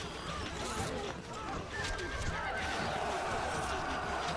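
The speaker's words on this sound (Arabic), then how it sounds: "الحصان سريع." Horse in Stronghold: Crusader giving a neigh over a busy battlefield background of clatter and murmuring voices, with a faint whinny trailing into steady game noise.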